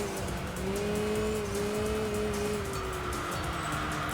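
Racing car in Enthusia with an upgraded level 2 engine, a loud steady engine drone holding pitch as it slowly rises and dips, with tires squealing and skidding on a reverse circuit.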